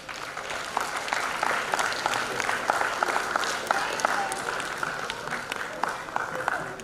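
Crowd clapping at a diamond jubilee celebration, a steady roomful of applause sustained throughout, with voices mixed in beneath the clapping.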